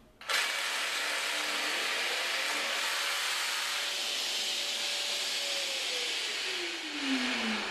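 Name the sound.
Festool PSB 420 EBQ pendulum jigsaw cutting laminate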